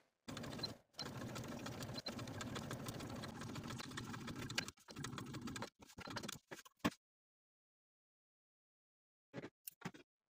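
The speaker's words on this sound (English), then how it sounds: "take the dress to your sewing machine and sew from the outside of the dart to the point" A sewing machine stitches dress darts, running in a continuous close whir for several seconds, then stopping and starting in short bursts before falling silent, with a couple of brief final stitches near the end.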